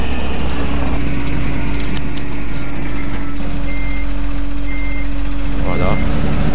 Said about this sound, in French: Le tracteur il a accéléré.